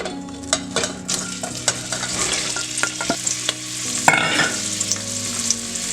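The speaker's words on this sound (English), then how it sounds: "First we're gonna saute the onion." A whole onion cut into half slices sauteing in hot oil in a pot, a continuous close sizzle and crackle with frequent utensil taps and stirring scrapes, no talking.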